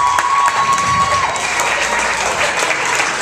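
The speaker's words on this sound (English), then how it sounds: "if you please could give all of our contestants a huge round of applause" Audience applauding contestants at the close of a competition show, steady dense clapping filling the hall with a few cheers mixed in, loud and sustained throughout.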